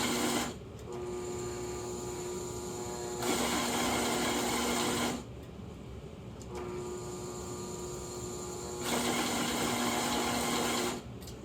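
A CueFeed conveyor feeder running and dispensing a batch: a steady mechanical motor whir with a tonal hum that switches between two pitches in alternating stretches of a couple of seconds, close and continuous.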